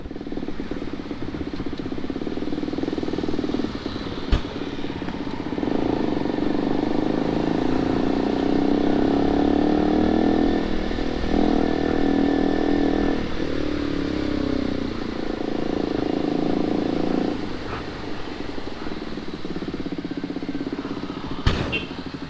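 KTM RC 200 motorcycle riding through heavy traffic in a tunnel on EDSA, a steady engine drone with surrounding vehicle rumble and a few sharp clanks, continuous throughout.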